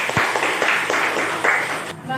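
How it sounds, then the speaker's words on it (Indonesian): A classroom audience claps after a student group presents, a short burst of scattered hand claps of moderate loudness that fades out within about two seconds. "kasih tepuk tangan itu"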